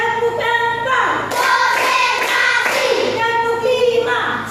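A classroom group performs the 'tepuk semangat' spirit clap, sharp hands striking in a steady pattern of repeated claps, loud and close, woven through continuous chanting voices.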